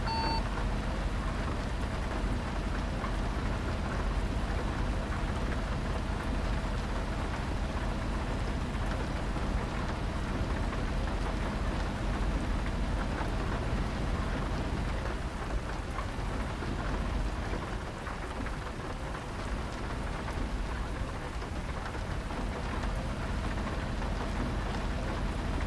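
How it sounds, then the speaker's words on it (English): Steady, heavy rain pours throughout a thunderstorm in Euro Truck Simulator, with low thunder rumbling beneath the constant downpour and no voices. "Oh, thunder, lightning."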